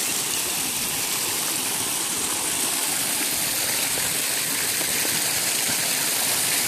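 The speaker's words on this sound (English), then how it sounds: "drink out of the spring water that's flowing" Steady, loud rushing of spring water flowing on a hill, like a small stream pouring close by, continuous with no pauses.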